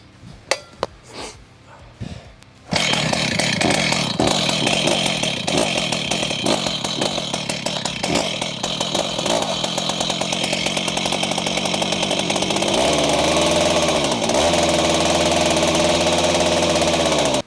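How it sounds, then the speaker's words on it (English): A few short pull attempts, then a chainsaw on a Granberg 60-inch Alaskan MKIV chainsaw mill roars to life and keeps running loudly at a high, buzzing idle, easing slightly lower near the end. "the chainsaw hasn't been started today, so I'm gonna start it up and let it warm up"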